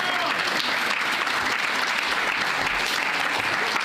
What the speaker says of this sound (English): Round of applause to him.